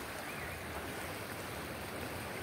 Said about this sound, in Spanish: Y así está este río.